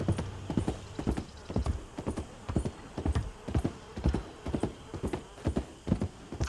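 Close, rhythmic clip-clop of a galloping horse in Red Dead Redemption 2, evenly spaced hoofbeats repeating throughout, with a faint snort or whinny mixed in.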